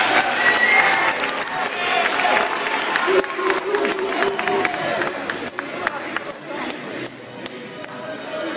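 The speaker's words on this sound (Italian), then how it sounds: "Allora un applauso a tutto l'Ipis, bravi, complimenti anche alla dirigenza." An audience at a school short-film award ceremony claps loudly and steadily for the students and staff, a continuous wash of applause with voices murmuring underneath throughout.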